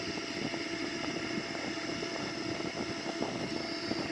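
Steady broadband roar of a Boeing 787-9's engines at takeoff/go-around power during the climb, heard from inside the cabin as a constant, loud wash with no talk.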